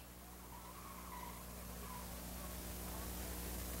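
A race car skids on the track at a speedway as it goes into a roll, a faint, distant, sustained tire-scrubbing hiss with steady engine drone and no talk.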